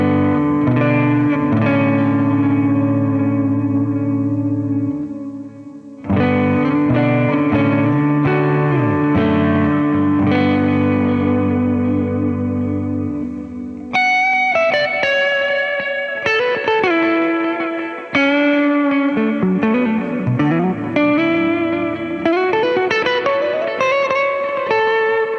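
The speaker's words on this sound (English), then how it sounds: "That reverb trail, the delays that are bouncing off" Electric guitar played through a Quad Cortex modeler with heavy reverb and bouncing delay effects, sustained chords ringing into long echoing trails, then brighter picked melodic lines washing over each other, loud and continuous with no voices.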